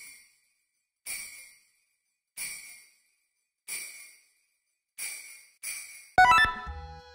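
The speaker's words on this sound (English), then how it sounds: "We're going to go ahead and use the Sleigh Bells he uploaded for us." Sleigh bells sound font with reverb for Paper Mario music: six bright jingling hits in a steady rhythm, each ringing out and fading, closing with a quick glittering flourish of tinkling notes.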